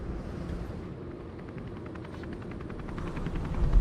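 A helicopter flying overhead, heard as a steady, moderately loud rotor drone with faint rhythmic chopping that swells slightly toward the end.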